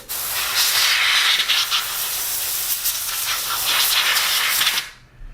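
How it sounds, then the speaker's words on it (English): Steady, loud hiss of air blowing dust and grime off an old Nintendo NES console, continuous for about five seconds before cutting off abruptly. "we'll start off just blowing this off a little bit, see if we can get some of this dust out of the way"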